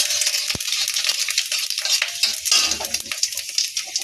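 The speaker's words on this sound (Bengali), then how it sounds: "কড়াইতে, শুকনো লঙ্কা এই তেলের উপর দিয়ে দিলাম। আর এই যে গোটা কাটা মৌরিও দিয়ে দিলাম ফোড়নে" Dried red chillies and whole fennel seeds crackle in hot oil in a kadai for a chalta pickle, a bright, close, continuous spitting sizzle with one sharp knock of a utensil early on.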